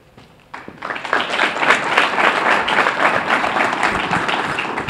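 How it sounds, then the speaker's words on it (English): Modest audience applause at a Chicago Bears press conference, starting faintly then swelling into a steady patter of many hands clapping at moderate volume for about four seconds. "Thank you for that tepid applause"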